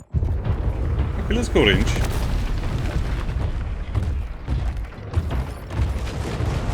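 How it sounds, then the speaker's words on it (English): Corrosive spike weapon impacts in the War Robots: Frontiers video game, heavy booming hits and rumbling bursts over dense battle noise, with someone speaking briefly. "Corrosive spike impact."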